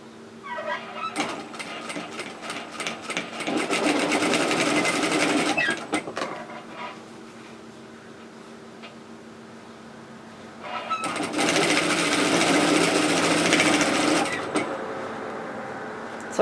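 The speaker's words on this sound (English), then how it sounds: "Now the stitch I'm going to do is an edge stitch, so I'm just going to sew it just inside the edge of my strap I created." A sewing machine edge-stitches a tote bag strap, running in two long steady bursts of rapid mechanical whirring separated by a quieter pause, close and clear with no talking.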